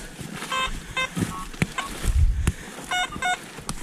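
Metal detector in rubble giving repeated short electronic beeping tones in bursts, over outdoor background noise with brief knocks and rumble.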